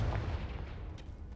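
A Confringo spell blast in the Hogwarts Legacy video game during a fight with spiders, a low booming impact with a rumbling tail that fades over about a second, with no talk over it.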